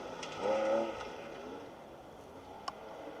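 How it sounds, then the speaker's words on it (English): A 3-litre Porsche 911 rally car on a forest stage of the Roger Albert Clark Rally swells briefly and faintly in the distance with a droning engine note, then fades into background rumble. "Awesome 3-litre Porsche 911."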